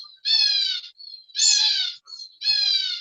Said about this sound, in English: the finches they're really vocal today